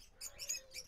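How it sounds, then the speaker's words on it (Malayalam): White-series cockatiels in an aviary at a pet shop give a few short, faint chirps and tweets in quick bursts against a quiet background. "ഇത് നമ്മുടെ കോക്ടെയിൽ വൈറ്റ് സീരീസിൽപ്പെട്ട പക്ഷികളാണ്"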